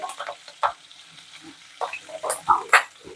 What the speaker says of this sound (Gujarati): તલ અને મરચાં નાખી દઈશું અને મીઠો લીમડો નાખીશું અને બધું સારી રીતે મિક્સ કરી અને તતડવા દઈશું